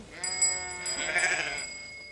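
Sheep on a farm let out a sustained, wavering bleat, loud and fairly close, holding for about two seconds with no talking over it.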